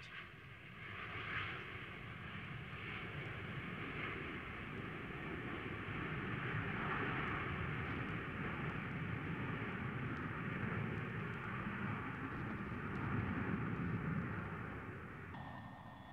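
Jet engines of a Brazilian Airlines Boeing airliner give off a steady, broad roar at moderate volume for the whole stretch, with no voices.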